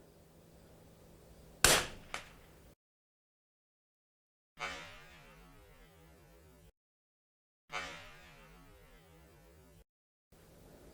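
A .22 LR rifle is fired at a metal barrel about 94 yards away in the wind: one sharp loud crack with a quick echo, then two more separate shots, each fading out.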